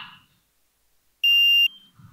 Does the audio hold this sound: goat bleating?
no